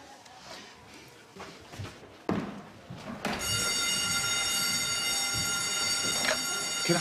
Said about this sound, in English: The fire alarm's gone off.